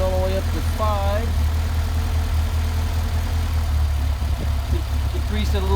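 A Mercedes 190SL engine with a worn Solex carburetor runs at a steady idle, its low rumble continuous throughout, while a nearby voice talks over it at times.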